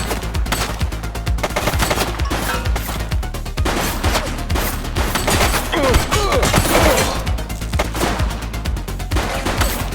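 Rapid bursts of automatic gunfire from The Precinct video game crackle loudly and almost without pause, overlapping rattles and thuds filling the scene.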